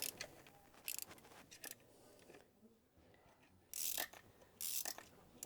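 A ratchet backs out a cylinder head bolt on a Porsche 944 S2 in a few short bursts of clicking between quieter gaps, close and fairly faint.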